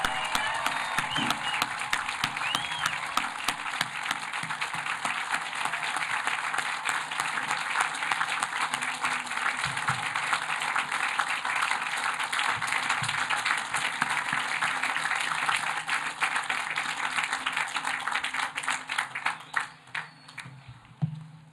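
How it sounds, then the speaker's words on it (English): Sustained applause from the audience for the class of 2022 graduates at Washington College's commencement, dense and steady for about twenty seconds before thinning into a few scattered claps at the end. "Can we have applause for our class of 2022 graduates?"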